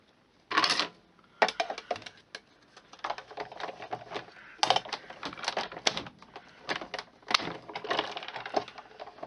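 Big Shot die-cutting machine cranking butterfly shapes from vellum, a run of close rattling, clicking mechanical bursts with short pauses between them.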